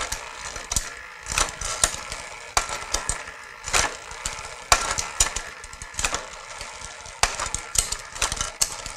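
A SRAM Yaw front derailleur on a bicycle shifts through test gears, with a steady drivetrain whir punctuated by repeated sharp clicks and chain clatters at uneven intervals, close-up and with no speech.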